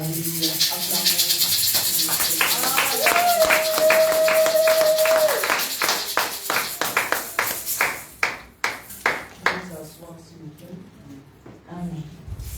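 A church congregation claps in sharp, rhythmic bursts, loud and close, with singing and voices over it at first, then the clapping carries on alone in uneven strokes before fading toward the end.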